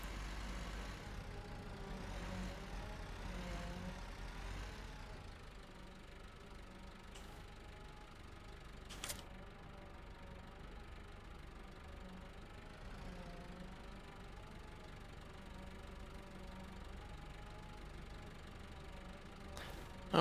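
Tractor engine idling and running steadily in the farming game Farming Simulator 15, a constant low droning hum with a few brief clicks, moderately quiet and continuous throughout.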